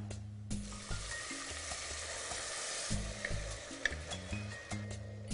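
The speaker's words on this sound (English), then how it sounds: "So it's time to add in our wine." Wine poured into a hot pot of golden, toasted ingredients sets off a loud, steady sizzle and crackle of frying that carries through the whole stretch with no talking.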